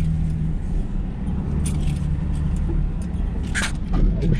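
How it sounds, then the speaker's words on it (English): A four-wheel drive vehicle climbs a small hill on a Tennessee outing, its engine a constant low rumble with rattles and jostling clatter from the cab. "Alright, kick her in the four-wheel drive."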